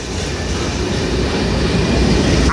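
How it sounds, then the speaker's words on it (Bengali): The Benapole Express, hauled by locomotive 6621, rolls through Gandaria railway station with a loud, continuous rumble and rattle of passing carriages, steady and close throughout. "বেনাপোল এক্সপ্রেস 66-21 লোকোমোটিভ নিয়ে গ্যান্ডারিয়া রেলওয়ে স্টেশন থ্রুপাস"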